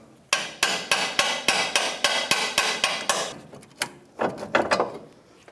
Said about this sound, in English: So I just took a little hammer, I'm just tapping it.